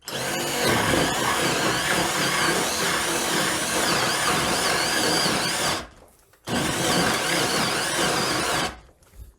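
An Edon AD-12AUN cordless drill in second gear bores with a 35 mm Forstner bit, a loud close whining grind running for several seconds, stopping briefly, then resuming in a second shorter burst.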